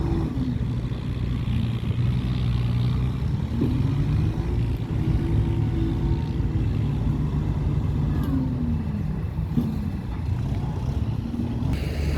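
Ten-wheeler truck driving on wet roads after a rainstorm, a steady low engine rumble with faint gear and pitch shifts, continuous and fairly close, with no voices.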